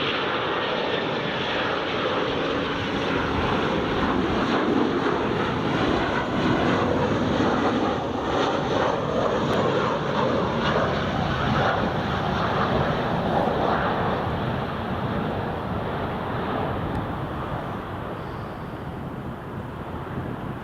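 An Embraer 145 regional jet comes in to land at Newcastle airport after a flight from Paris. Its engines make a steady broadband roar that swells and then slowly fades, with some wind noise.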